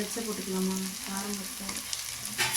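Green chillies frying in a pan with chopped onion for coconut milk rice, a continuous loud sizzle with stirring scrapes and a sharper burst of spitting near the end.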